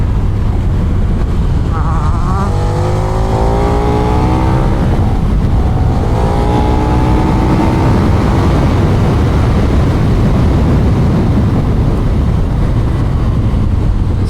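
A KTM 1390 Super Duke Evo motorcycle accelerates through twisty roads, its engine note climbing in rising sweeps under heavy, constant wind roar.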